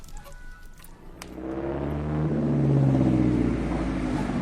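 A Daimler car engine rumbles into motion and builds to a steady, loud low drone as it pulls away in a radio drama, with no talk over it.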